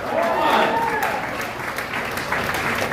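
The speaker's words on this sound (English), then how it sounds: "give a round of applause just for that" Comedy club audience at a stand-up showcase giving a round of applause, steady clapping throughout with some cheering and a voice calling out over it.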